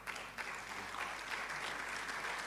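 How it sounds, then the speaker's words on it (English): Steady applause from an audience at a public medical lecture, a continuous even wash of clapping that is fairly faint and distant, with no voices over it. "Let's clap for her."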